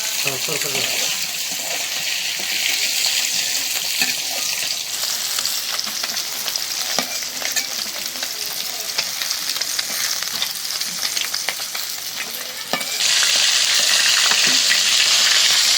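Fish pieces, including tails, frying in oil in a pan, giving a dense continuous sizzle with occasional stirring clatter; a voice is faintly heard over the hiss.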